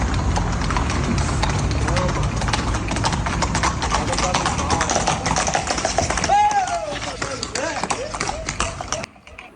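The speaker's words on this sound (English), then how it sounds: "the horses are trotting in the pavement right next to the road" Several horses trot on pavement right beside a road, with a steady close clip-clop of hooves that continues throughout under traffic noise and fades near the end.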